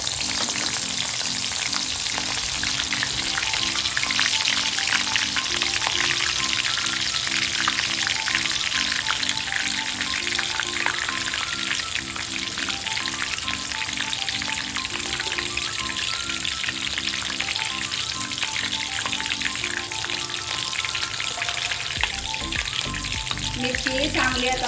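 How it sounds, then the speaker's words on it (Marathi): Green chillies fry in hot oil for a farali chivda, giving a steady, dense sizzle and crackle that runs loud and unbroken from start to end, with no voices over it. "आता मिरची तळून घेऊयात।"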